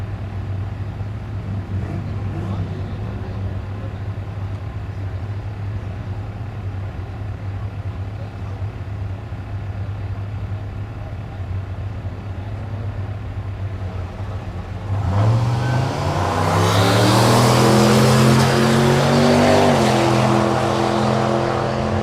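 Drag racing cars, a Firebird and a Sierra, idle with a low rumble at Thunder Valley in Noble, Oklahoma, then launch and roar loudly as engines rev hard, with an announcer talking over the early idling.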